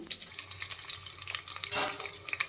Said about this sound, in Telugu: అందుకని నేను ఇట్లా ఘాట్లు పెట్టి వేయించుకుంటున్నాను